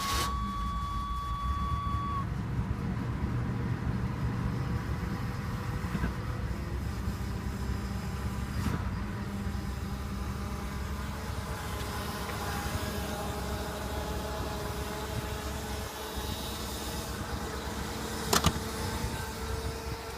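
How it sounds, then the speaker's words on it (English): A 1978 Buick engine idling with an odd power steering noise: a low steady running rumble carrying a thin whine early on, with a faint clack late in the clip. "Is the power steering pump making that noise or what?"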